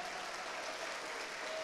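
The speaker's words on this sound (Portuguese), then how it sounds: "Se você crê, pode aplaudir." A church congregation applauds in a brief, steady burst of clapping, fairly faint and diffuse as if heard from a distance.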